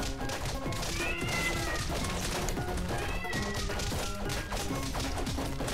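A house cat meows and whines a few times over loud video-game music and crashing effects from Castle Crashers.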